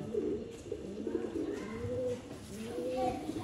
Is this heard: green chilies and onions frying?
no